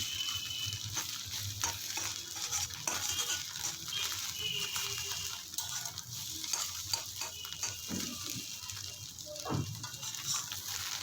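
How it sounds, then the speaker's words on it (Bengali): Egg sizzles steadily in a hot frying pan for Korean-style fried egg, with a constant crackling hiss and scattered scrapes and taps of a utensil against the pan, close and fairly loud throughout. "এই দেখুন সমস্ত ডিমটাকে আমি ভালো করে ভেজে নিলাম"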